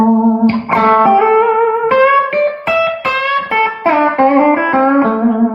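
Electric guitar with a Seymour Duncan USA P90 pickup plays a sequence of sustained notes and chords with clear attacks, a touch of grit and ringing overtones, heard alone and up close.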